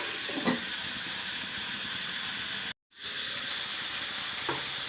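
Oil bubbling and sizzling in a covered pan while chicken curry cooks, a steady close hiss with a brief pause partway through and faint clinks, no voices.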